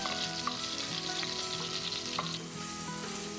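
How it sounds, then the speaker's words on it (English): Three finely diced banana shallots fry in hot oil and butter, a steady close sizzle with faint stirring clinks, for chicken supreme pie filling. "Once it's hot and sizzling, add your shallots. I'm using 3 finely diced banana shallots."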